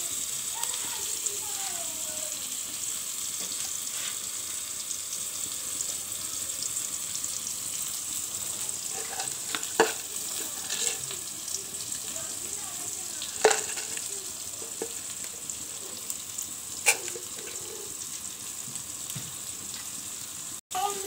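Chopped onion fries with whole cumin, cardamom, cinnamon and garam masala, giving a soft continuous sizzle with occasional sharp pops and stirring clinks, moderately quiet.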